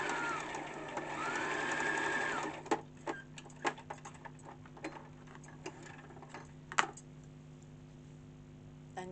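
A Brother LS14 sewing machine runs a zigzag stitch with a steady mechanical whir for about three seconds. Sharp, irregular clicks and ticks follow once the machine slows and stops.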